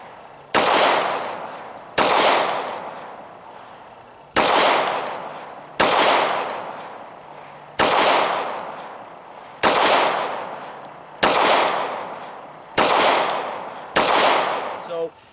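A Glock 21 pistol fires .45 ACP rounds at a slow, deliberate pace, about ten loud sharp shots spaced roughly one to two seconds apart, each with a short ringing decay on an outdoor range.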